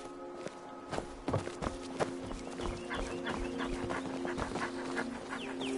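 A dog in a Nord village in the video game Skyrim pads around with soft footsteps and light panting, accompanied by clopping steps and scattered clicks over a quiet game ambience.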